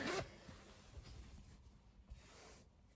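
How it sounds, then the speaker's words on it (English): A zipper on a handmade fabric project bag is pulled closed in one quick, close, rasping stroke at the start, then fades into faint low room noise. "Now I'm just going to do my zip back up."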